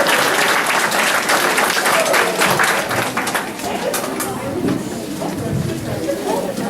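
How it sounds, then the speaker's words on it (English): An audience applauds a fifth finalist at an indoor picnic event, strong clapping at first that thins out, with chatter and voices growing audible as it fades. "Give her a round of applause"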